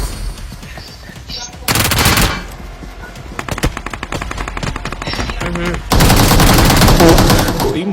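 Bursts of rapid automatic gunfire in the mobile shooter game BGMI, loud and close, separated by quieter stretches with scattered single shots, with a voice talking faintly underneath.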